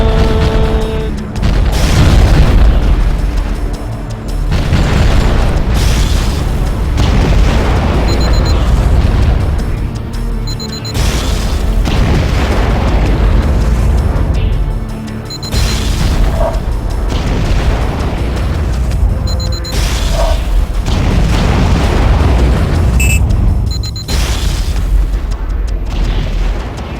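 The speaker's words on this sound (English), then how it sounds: "Bombing run!" A bombing run in the Aqua Nox 2 video game, with loud continuous booming explosions rolling one after another for a long stretch, dense low rumble throughout and no talk.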